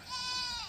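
A goat squeals and bleats loudly in one sustained, wavering cry, close by, with no talk over it.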